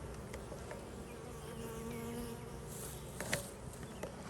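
Steady buzzing of many bees close by, a continuous droning hum with occasional louder passes.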